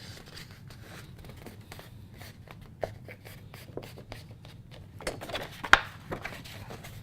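Paper being folded and creased for a star template, quiet scratchy rubs and soft crinkles with a few sharper creasing clicks near the end, close and faint with no talking.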